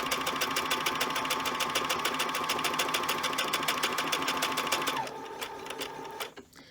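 A sewing machine stitching an automatic one-step buttonhole: a fast, steady, even whir of needle strokes close up that runs for about five seconds, then slows, fades and stops.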